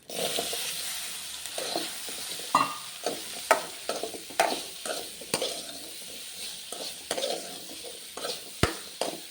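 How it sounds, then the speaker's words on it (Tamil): Chana dal sizzles in hot tempering oil with asafoetida and curry leaves. A steady hiss runs under repeated stirring scrapes and clinks of a spoon against the pan, close and fairly loud. "இப்போ நம்ம கடலை கொட்டிக்கலாம்."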